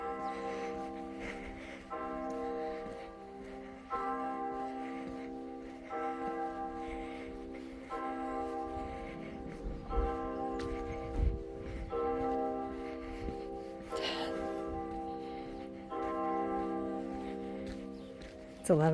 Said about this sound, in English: And the church bells are ringing.